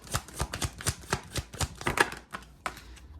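Tarot cards being shuffled during a pick-a-card reading, heard as a quick series of crisp riffling bursts, close and fairly quiet, with no voices over them.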